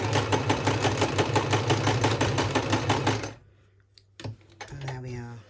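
Sewing machine stitching forwards and backwards on a fabric heart wreath, a fast steady close rattle of the needle that stops abruptly partway, followed by a few faint clicks and then a voice.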